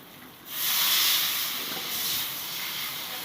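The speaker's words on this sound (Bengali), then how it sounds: "এখন আমি জল দিয়ে দিচ্ছি" Water poured into a pan of fried spices sets off a sudden loud hiss that swells, holds for a moment, then settles into a steady, slightly softer sizzle.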